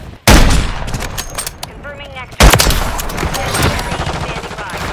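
KATT AMR sniper rifle shots in a video game, two loud sharp blasts about two seconds apart, each followed by ringing game noise and faint voice chatter.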